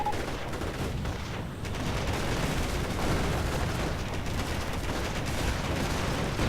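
A video game battle between airborne troops and engineers, with a Tiger tank nearby, rages in a dense, continuous wash of rattling gunfire and distant booms at moderate volume, with no clear pauses.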